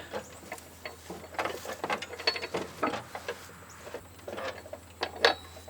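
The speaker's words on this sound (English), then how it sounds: "Now I'm kind of turning the blade underneath with my hand as I push the breaker bar up top." A breaker bar works on the blade spindle of a Husqvarna lawn mower deck, giving quiet intermittent ratcheting clicks and metallic scrapes in short bursts, close by with no talking.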